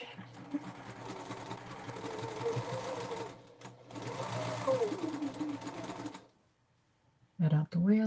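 Sewing machine stitching pieces of a vintage egg basket quilt block, a steady mechanical whir running for about six seconds, then stopping, followed by brief bursts of sound after a short pause.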